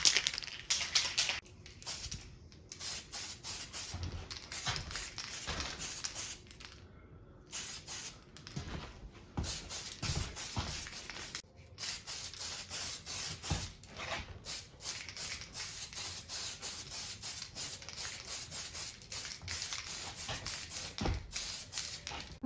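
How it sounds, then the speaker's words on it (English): Tamiya PS-1 spray paint from an aerosol can misted onto a clear lexan RC rally car body, heard as many short hissing bursts in quick succession with brief pauses between, close and steady. "I'm just gonna keep spraying it like that until we can't see through it anymore"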